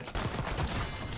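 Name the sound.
gunshot from long range rifle in video game Warzone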